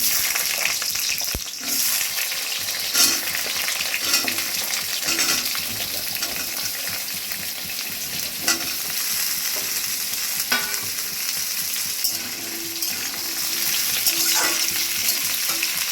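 Potatoes go into a pan of hot oil with fried whole spices (cinnamon, cloves, cardamom and cumin) for a vegetarian ghugni, giving a loud, sustained sizzle with stirring scrapes and occasional clinks throughout.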